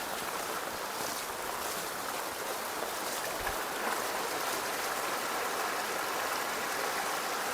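Rainwater rushes strongly through a flooded street in Alwal, Secunderabad during heavy rain, a dense, continuous hiss of flowing water that stays loud and steady throughout, with no voices.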